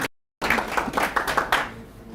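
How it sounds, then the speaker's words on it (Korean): An audience claps to welcome a speaker at a talk on ESG management and NFTs. After a brief dropout, a full burst of applause swells, holds for about a second with crisp individual claps, then tapers off quickly. "박수로 환영해 주세요"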